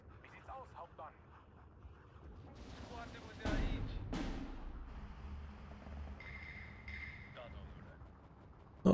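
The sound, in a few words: artillery fire in the video game Steel Division 2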